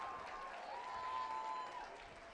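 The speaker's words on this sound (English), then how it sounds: "Please give all of these dancers a big round of applause." Audience at a National Showstopper dance competition finals applauding the dancers, a faint, distant and even wash of clapping with a few voices and cheers mixed in, steady across the short stretch.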